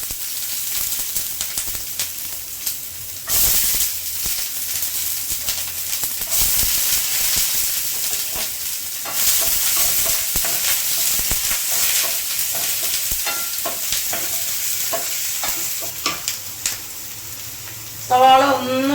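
Onions dropped into hot oil with mustard seeds for a pulissery curry, fizzing and stirred, the sizzle swelling and fading in bursts with clatter of the spoon, a voice talking over parts of it.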